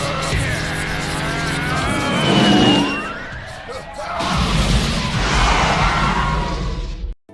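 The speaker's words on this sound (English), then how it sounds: "the self-titled protagonist is seen sliding 90 degrees on his motorcycle on a highway" A motorcycle slides sideways across a highway in the 1988 anime Akira, with a long tire squeal and skid over rising engine roar, then a second swelling rush of noise before an abrupt cut to silence.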